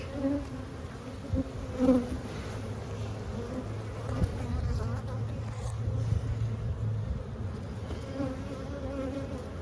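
A dense, steady buzzing of many honeybees at a hive fills the air up close, continuous and droning, with occasional louder passes as individuals fly near.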